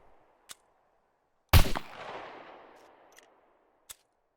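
A single loud gunshot from a gun in the video game SCUM, a sharp blast with a rolling echoing tail, framed by a few faint clicks of weapon handling before and after.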